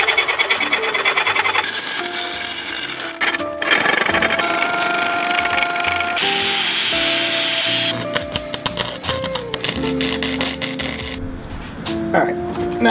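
A metal exhaust piece for a kei truck being cut with a power tool, loud harsh grinding and screeching that stops and restarts several times over roughly thirteen seconds, close up.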